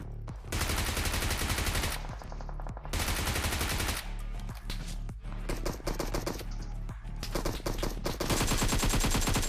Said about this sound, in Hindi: अब ये SKS वाले ने तो फायर कर रहा था